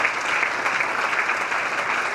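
Dense, steady applause from a lecture audience fills the whole stretch, an even wash of many hands clapping at once with no pauses.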